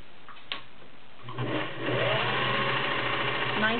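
A vintage Singer 403A Slant-O-Matic sewing machine starts up and runs with a smooth, steady whir after a faint click, fitted with a zigzag cam, sounding close and continuous.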